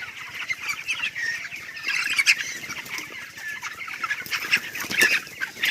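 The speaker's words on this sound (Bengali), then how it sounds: "মুরগির পাখিগুলো তাড়িয়ে নিয়ে যাচ্ছি" Chickens on a poultry farm cluck and squawk as they are chased along, wings flapping and feet scuffling in a busy, steady stream of moderate-level farmyard noise.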